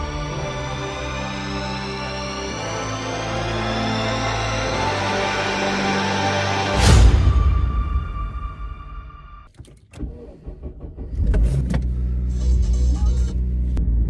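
Inside a car heading to a radio station on the Isle of Man, the engine hums steadily before a loud thump like a door closing, then a brief quiet and the motor's rumble resumes.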